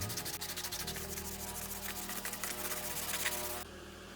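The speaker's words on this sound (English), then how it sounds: "I went from 60 to 120 with some WD-40, little wet sanding" Rapid rhythmic scraping of sandpaper wet sanding metal with WD-40, 60 to 120 grit, on a 1945 Atlas Model 73 drill press, rubbed back and forth, close and continuous, with no talking.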